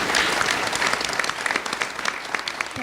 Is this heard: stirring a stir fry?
no